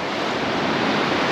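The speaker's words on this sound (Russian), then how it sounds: "Так, идет большая волна." Sea at Gurzuf, Crimea, with a big wave coming in; a continuous loud wash of surf and rushing water, steady and close, with no voices.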